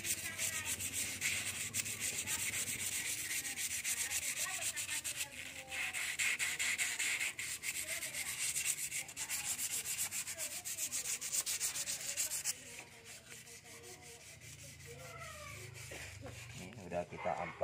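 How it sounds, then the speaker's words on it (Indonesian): Steady, scratchy rubbing of sandpaper smoothing scratches on a motorcycle transmission gear, continuing in long strokes throughout with a brief dip near the end, quieter talk faintly underneath. "Menggunakan amplas untuk meratakan baratannya."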